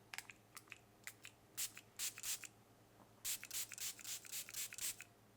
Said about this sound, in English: I'm gonna spray this on my face just as like a prep